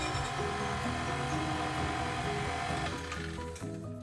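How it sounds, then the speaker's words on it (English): Electric stand mixer whirring steadily while beating a flour-based bread dough for apple praline bread, a loud, even mechanical hum that tapers and winds down near the end. "We're going to stop our mixer."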